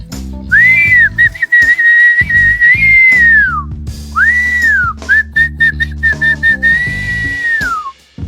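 Loud, sustained human whistling meant to call up wind for flying a kite, long wavering tones in two phrases with a brief break, over steady music.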